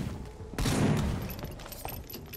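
Gun fired in the game Vampyr, a single loud sharp shot with a booming, decaying tail, then quieter clatter, no talking.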